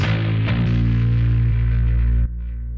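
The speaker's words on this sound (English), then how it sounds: "This is actually just my bass going into the Darkglass B1K." A heavily distorted bass guitar played through a Darkglass B1K pedal, without compression, EQ or limiting, drones loud and thick with sustained gritty low notes, then drops off sharply near the end. No voices.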